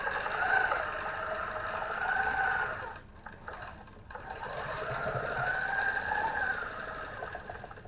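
A sewing machine running for free-motion quilting of wavy lines, with a steady close whir that drops out briefly partway through before starting up again.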